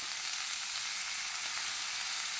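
Boiled cauliflower florets fry in a hot pan, giving a steady, even sizzle that stays constant throughout with no talking.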